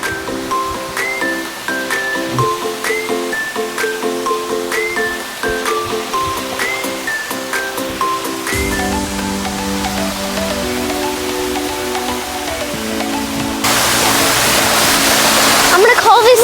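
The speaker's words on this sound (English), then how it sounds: "A waterfall, look." A waterfall in a Florida Keys garden, a steady rushing splash that swells louder near the end, with a melodic music bed and a voice in the background.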